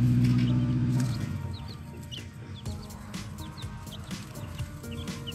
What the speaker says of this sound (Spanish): Acá tenemos los 8 pollitos que salieron de la incubación en el balde de pintura.